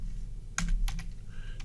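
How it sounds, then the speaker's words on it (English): Keystrokes on a computer keyboard, a short burst of several clicks in quick uneven succession with a few fainter taps after, close by over a low steady hum. "I can't type and talk at the same time apparently"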